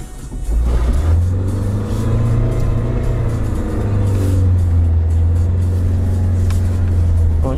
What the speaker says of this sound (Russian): сейчас мы немножко разгонимся